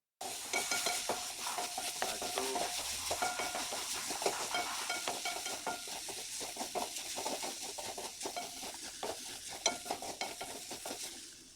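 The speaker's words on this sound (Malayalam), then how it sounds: "ചൂടായ ചീനിച്ചട്ടിയിലേക്ക് നമുക്ക് എടുത്തു വച്ചിരിക്കുന്ന തേങ്ങയും ചെറിയുള്ളിയും കൂടെ ആഡ് ചെയ്ത് കൊടുക്കാം." Grated coconut and shallots fry in a hot pan for a Kerala-style roasted-coconut shark curry, a loud, steady sizzle with frequent scraping stirs and light utensil clatter, with no talking.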